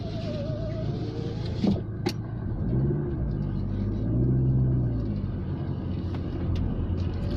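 A 2-litre turbo petrol Rover 600ti drives along, heard from inside the cabin as a steady low road rumble and engine drone, with small rises in engine pitch and a faint whine.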